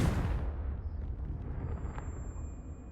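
A Confringo spell explosion in the video game Hogwarts Legacy: a loud, booming blast at the start that quickly decays into a low rumbling tail, with no voices.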